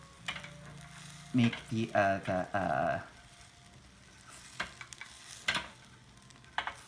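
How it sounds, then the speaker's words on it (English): An egg mixture for tamagoyaki sizzles and is stirred in a frying pan, with light scraping and sizzle heard under a woman's speech. "Kind of like you are making the scrambled egg, but don't mix too much"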